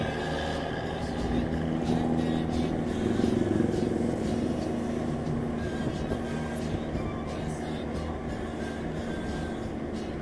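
A bus exhaust (knalpot) rumbles steadily while riding aboard the bus, a continuous low droning engine and exhaust tone with road noise, constant and fairly loud, with a person talking faintly underneath.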